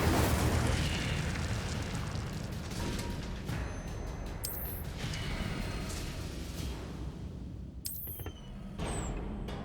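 Fire spells cast in the video game Hogwarts Legacy roar as a dense, continuous whooshing blaze, with a few sharp bursts and crackles rising over it, heard at close range.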